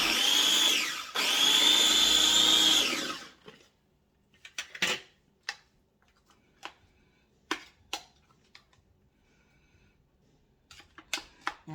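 A kitchen appliance chops onion and garlic with a steady loud whirring motor run that stops abruptly, followed by scattered clattering knocks and taps at irregular intervals.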